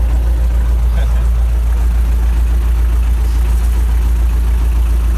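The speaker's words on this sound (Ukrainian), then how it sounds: "вже на новенькому тракторі вже і 4 моточаса наїздив" A new tractor engine runs steadily and loud close by, a constant low droning rumble throughout with no pauses, heard outdoors in the evening.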